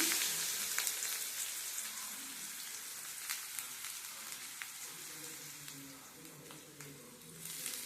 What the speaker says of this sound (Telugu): చూడండి, చిటపట్లాడుతున్న అందులో జీలకర్ర వేసాను. ఇప్పుడు ఆనియన్ తీసుకుని ఆనియన్ వేసేసాను.